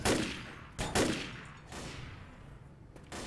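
Gunfire bursts from the Left 4 Dead zombie shooter game, a few loud sharp shots up front then quieter rattling fire trailing off, with another burst at the end.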